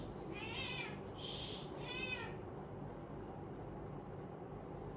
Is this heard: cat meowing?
yes